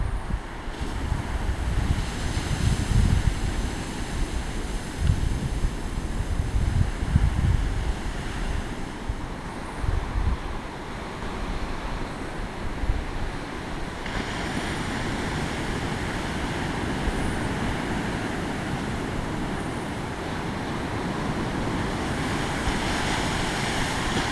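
Ocean waves wash onto a Northern California beach at night, a continuous loud roar of surf with swells rising and falling, mixed with wind buffeting the microphone and no voices.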